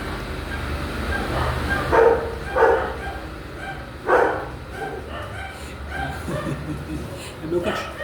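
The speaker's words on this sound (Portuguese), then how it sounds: "É o cachorro do meu irmão aqui, viu outro cachorro latindo aqui, vai incomodar." A pet dog barks several times, sharp separate woofs close by, mixed in with someone speaking Portuguese over a steady background hum.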